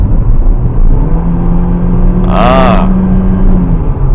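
A Perodua Myvi automatic car drives with a steady, loud engine rumble and road noise inside the cabin; a brief whirring rise and fall sounds midway through.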